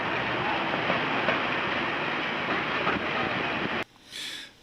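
A steady low rumble from a San Francisco cable car's cable running through the channel in the road fills the street, broad and continuous, then cuts off abruptly near the end.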